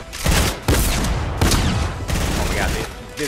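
Rapid bursts of gunfire in a Fortnite match, loud and close, arriving in several clusters of shots with brief pauses between them, while players talk excitedly over the shooting.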